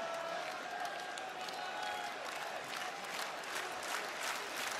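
A WWE SmackDown wrestling arena crowd applauds and cheers in a sustained, distant-sounding roar of clapping that stays fairly faint and even throughout.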